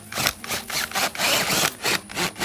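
A 3-inch auger drills planting holes in garden soil on a Texas farm, a close motor whine coming in short repeated bursts with brief pauses between them.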